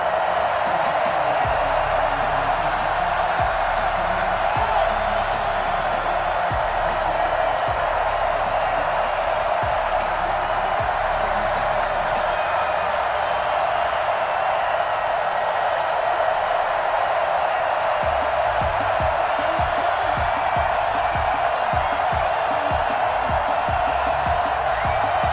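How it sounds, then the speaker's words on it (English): Sold-out stadium crowd at Heinz Field cheering for the Steelers before a game against the Baltimore Ravens, a steady broad roar of many voices filling the whole stretch without letup. "Big Ben Roethlisberger greeted by this sold-out Heinz Field crowd"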